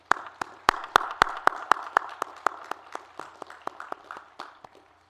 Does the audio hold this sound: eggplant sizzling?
no